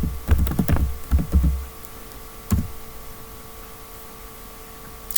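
A password is typed on a computer keyboard in a quick burst of close, light key clicks, then a pause and one last tap, with faint room hum behind.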